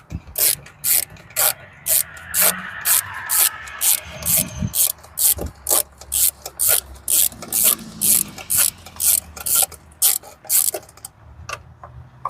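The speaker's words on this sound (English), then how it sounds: "take your ratchet with your extension and your 10mm socket, and there is a bolt back here that you want to remove" Ratchet with an extension and 10mm socket loosening a bolt on a 2004-2009 Kia Spectra EX during battery replacement: a close, fast, regular clicking that runs steadily for about twelve seconds, with brief pauses, and no talking.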